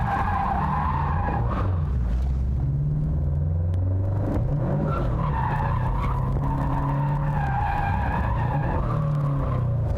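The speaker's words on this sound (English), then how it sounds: "Now we're going to get ready for our drift section." A car engine revs and rumbles steadily while tires skid and squeal through a drift, loud and close, with no talking.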